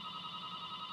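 A steady electronic telephone ring fills the whole moment at a small law firm office, continuous and fairly prominent over low background hum, with no voices.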